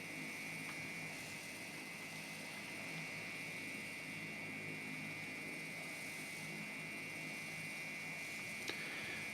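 Steady drone of a JustFlight Beech Duchess twin-engine light aircraft in a flight simulator game, a constant faint broadband hum with no talk.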